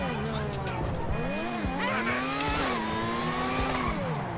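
A Formula 1 car in GTA 5 brakes hard, its engine note dropping through rapid downshifts and then climbing again. Tires squeal and skid under the loud, close engine whine.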